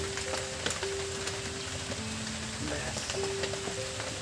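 A sesame and palm mixture for sweets fries in a wok as it is stirred, giving a quiet, steady sizzle with a faint tonal hum running through it.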